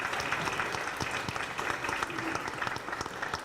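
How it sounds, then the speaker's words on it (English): Audience applause at a chamber of commerce awards ceremony, a sustained wash of many hands clapping at once, steady and fairly loud throughout. "Give them a round of applause just for that one"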